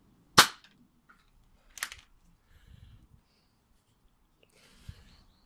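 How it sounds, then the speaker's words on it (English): A Nerf Hotshock foam dart blaster, fitted with a Fenland Nerfworks adapter and stock spring, fires outdoors across a yard with a sharp, loud snap, followed by a second fainter shot and quiet handling clicks, with no talking. "let's shoot straight out and see what kind of range I can get with this thing"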